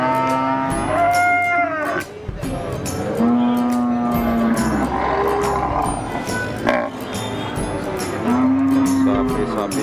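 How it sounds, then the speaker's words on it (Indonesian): Cattle lowing repeatedly at a crowded cattle market in Central Java, several long drawn-out moos overlapping from different animals, near and loud over steady market background noise. "dari pasar sapi pon Mulanja Kenpa di Jawa"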